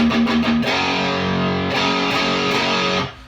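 Heavily distorted electric guitar plays a short chugging riff with rhythmic strums, loud and steady throughout, no voices.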